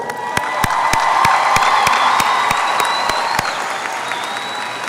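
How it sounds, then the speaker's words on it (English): Sustained applause from a large audience at the Martin High School class of 2024 graduation ceremony, a dense steady patter of clapping with scattered sharper claps and faint cheering throughout. "please give a round of applause for our Martin High School class of 2024"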